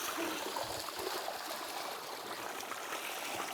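Steady rush of running water from a village tap pouring into a container for drinking water, continuous and close without speech.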